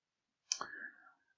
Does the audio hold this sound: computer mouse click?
yes